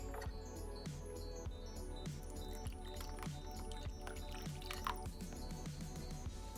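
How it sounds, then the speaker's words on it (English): Water is added to curry powder with turmeric, roasted ground geera and green seasoning to make a paste, giving faint wet drips and soft squishy mixing sounds at an irregular pace, close and quiet. "I'm gonna add some water here."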